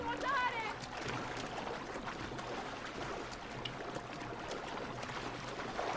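A rowboat glides through the Venetian canals in the video game Assassin's Creed 2, water sloshing softly in a steady wash beneath someone talking over it.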